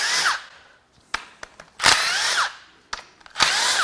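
Power tool, likely an impact driver, unbolting the lower oil pan on a 2010 Toyota Corolla engine in a repair shop: several close, loud whirring bursts separated by short pauses and small metallic clicks.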